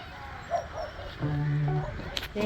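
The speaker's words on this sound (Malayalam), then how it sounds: "ആ വീട്ടിൽ നിന്നാണ് കേട്ടോ നായി കൊരക്കുന്നുണ്ട് പട്ടി കൊരക്കുന്നു" A dog barks from a nearby house, a few short, moderately distant barks blending with a voice talking in the foreground.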